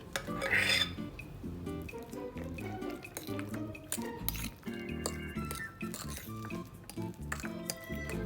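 Philadelphia cream cheese being mixed with whipped cream in a bowl, with close irregular clinks and scrapes of a utensil against the bowl, while a voice talks intermittently underneath.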